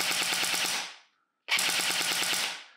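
An electric blowback airsoft gun firing on full auto in two fast rattling bursts, each about a second long with a short pause between, close and loud.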